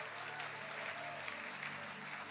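Congregation applauding during an evangelical church service, a faint, distant wash of steady clapping with no clear individual claps.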